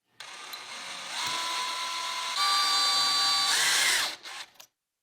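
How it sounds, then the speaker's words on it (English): A power drill boring a small hole through a clamped copper penny, a steady high whine that rises in pitch partway through, then cuts off abruptly near the end. "clamp it down and drill a small hole in it"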